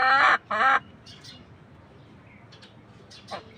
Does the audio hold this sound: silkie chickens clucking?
yes